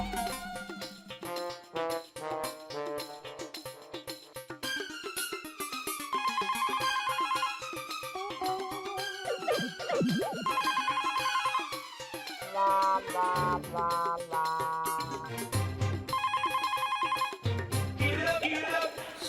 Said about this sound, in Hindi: नटू काका, मेरा घर पे फोन लगाना तो।